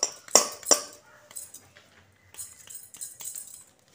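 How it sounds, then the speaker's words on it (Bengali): A fork pricks holes all around a sweet meant to soak up syrup, giving two sharp metallic clinks early on, then a scatter of softer, quieter taps. "এইভাবে চারিদিকে আমি কাঁটা চামচের সাহায্যে ছিদ্র করে নেব"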